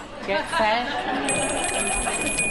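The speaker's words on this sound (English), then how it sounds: "a ringing bell marked the beginning" An electronic bell rings with steady high tones through a crowd's murmur of chatter, then sustains as voices continue in the background.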